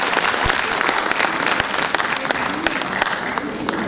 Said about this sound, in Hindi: साधक, विचारक, चिंतक डॉक्टर कैलाश गुप्ता जी, एक बार तालियों के साथ अभिनंदन।